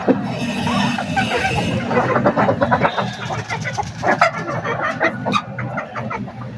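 Rhode Island chickens clucking on a small farm, several birds making overlapping bursts of clucks and squawks at close range, busy and irregular throughout.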